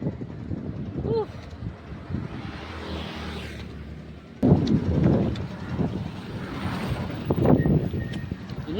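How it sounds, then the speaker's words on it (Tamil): Strong wind buffets the microphone outdoors during an endurance run, a steady low roar that jumps louder halfway through, with voices speaking over it. "பயங்கரமாக காற்று அடிக்குது."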